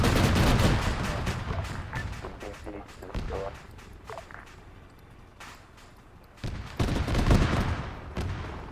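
A BMP armored vehicle firing its gun in Arma 3, heavy bursts of shots with a loud cluster at the start and another later, separated by quieter rattling fire, with voices talking over parts of it.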